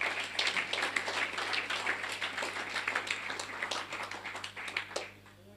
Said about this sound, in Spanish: Den la ofrenda de palmas al Señor